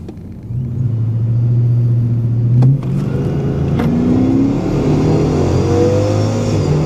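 A Jeep 392 launches hard in a drag race, its engine roaring loud and close with rising revs and a shift around the middle, followed by sustained heavy acceleration.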